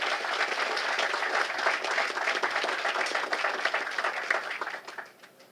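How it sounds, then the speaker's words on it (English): Steady applause from a crowd at an outdoor sports field dedication ceremony, dense clapping held throughout and tapering off near the end, with no talking over it. "Let's give a round of applause for Mrs. Choice, of course, still being here."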